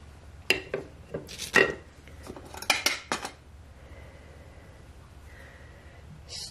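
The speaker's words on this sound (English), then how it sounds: "Stirring continuously with a whisk until the first bubble appears on the surface of the mixture" A whisk works through a lemon curd mixture of butter in a pot over low heat, with a burst of metallic clinks and scrapes against the pot that gives way to a quiet hum.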